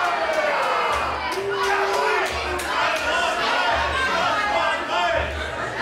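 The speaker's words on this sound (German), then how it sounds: "Die Anfeuerungsrufe für Crowchester hören wir auch noch" Wrestling crowd at a GWF Light Heavyweight World Cup 2023 match chants and cheers steadily throughout, a dense roar of many voices with rhythmic shouted chant bursts, under a commentator's voice.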